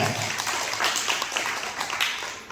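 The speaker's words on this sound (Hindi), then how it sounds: "एक बार जोरदार ताली हो जाए।" Applause from an audience at an RCM business seminar, a steady dense wash of clapping that carries through the whole stretch at moderate loudness.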